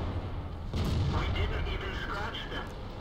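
A tank cannon in World of Tanks fires a single heavy boom about three quarters of a second in, a sustained low rumble trailing through the rest of the clip.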